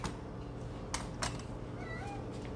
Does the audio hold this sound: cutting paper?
no